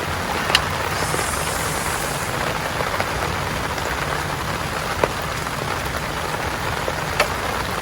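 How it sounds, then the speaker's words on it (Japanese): Heavy rain pours steadily at a spring campsite, a dense continuous hiss of drops drumming on surfaces, with a few sharper nearby drip impacts standing out now and then and no voices. "いやマジあの豪雨は勘弁して。"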